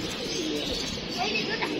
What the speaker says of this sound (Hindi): कबूतर बाहर खुले छोड़े हुए हैं